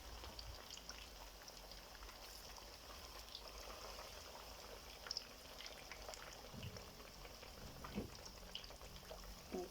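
Chicken pieces frying in a pan over medium heat, a steady dense crackle and spatter of hot oil that runs throughout with a few sharper pops, close and even in level.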